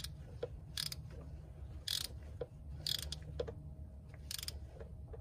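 Wrench tightening the oil filter on a 2015 Polaris Sportsman 850, a few quiet, close clicking ratchet bursts spaced about a second apart over a low steady hum, with no talking.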